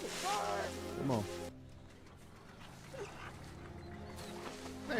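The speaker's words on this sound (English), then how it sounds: "A dog." A dog whimpers and yips in a TV episode, short high whines near the start amid talk and dramatic background sound, followed by quieter tense ambience.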